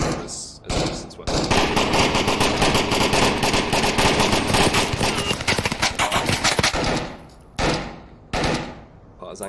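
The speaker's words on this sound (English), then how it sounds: "there's lots of bullets" Dense automatic and single gunfire in the VR shooter Onward during a team scrimmage, sustained loud bursts over several seconds with brief gaps, ending in a few separate shots; players talk faintly underneath.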